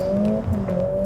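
A Mercedes GLA 45 S launches from standstill under launch control, its engine holding a loud, steady high rev tone that climbs slightly as the car pulls away, close and continuous with no talk.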